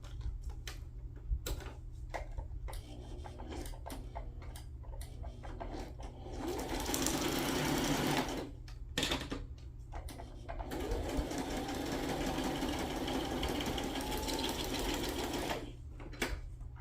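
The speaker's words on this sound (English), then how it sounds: "I'm gonna go ahead and sew" A sewing machine stitches embellishments in two long, steady runs of rapid mechanical whirring, separated by short pauses and quieter handling sounds.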